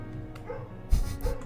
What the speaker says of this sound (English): It's always great when you have a really loud dog that lives right next door